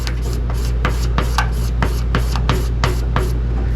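A scraper drags across a painted surface to take down a paint run, making close, loud, rhythmic raspy strokes about every half second over a steady low hum.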